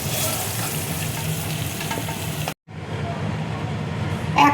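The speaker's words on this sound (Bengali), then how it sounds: "আলু পটল দেখো ভাজা হয়ে গেছে," Potato and pointed gourd fry in oil with a dense, close sizzle and hiss that drops out briefly partway through, then resumes just as strongly.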